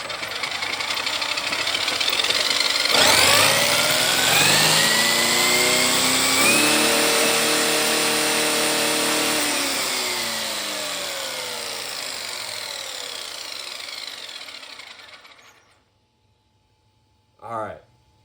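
A Traxxas XMAXX RC truck with a 12s conversion spins up with a loud electric motor whine that climbs in pitch, holds high for several seconds, then winds down to silence before a brief final burst.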